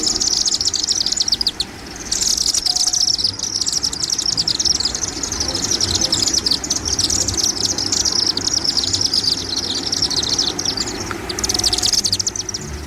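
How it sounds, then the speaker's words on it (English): Chimney swifts twitter and chirp in excited, rapid high-pitched bursts. The calling runs almost continuously and loudly, broken by one short pause, over a low steady background hum. "Chimney swifts are wonderful to watch and almost as beautiful to listen to, with their excited twittering and chirping like this."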